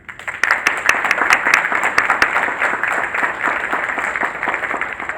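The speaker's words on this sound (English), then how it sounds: "I'd like for you to have another round of applause as well." Another round of applause from the audience at a candidate forum, many hands clapping steadily and loudly from start to finish in a busy room.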